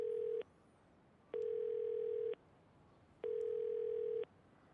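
A payphone dial tone in the Yakuza 0 video game plays as three steady, even beeps, each about a second long, separated by short pauses, clear and alone with no talking.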